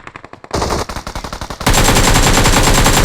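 Automatic gunfire in PUBG Mobile, starting with rapid, evenly spaced loud bursts and then merging into a sustained, very loud stream of close-range shots.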